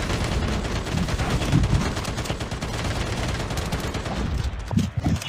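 Continuous gunfire from defensive turrets against attacking zombies in Call of Duty Mobile's Undead Siege mode, a dense, unbroken barrage of rapid shots with heavier impacts near the end, loud and close.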